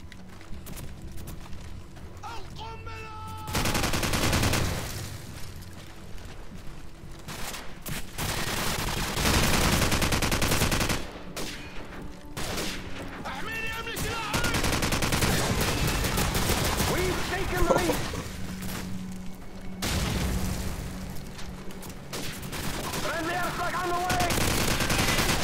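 Rapid gunfire bursts from a team deathmatch video game, loud and dense, repeating in waves throughout under excited game action.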